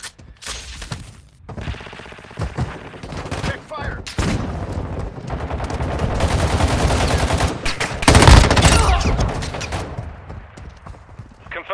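Gunfire in Warzone Mobile rattles in dense bursts, building from scattered shots to sustained loud fire with a heavy blast near the end, mixed with game effects and voices.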